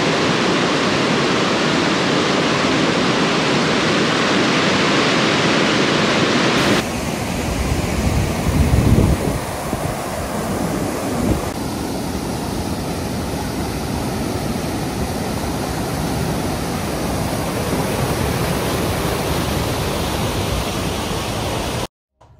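Rushing water near Pathlian lake in Kashmir fills the air with a loud, continuous broadband roar that stays close and steady throughout, with no voices.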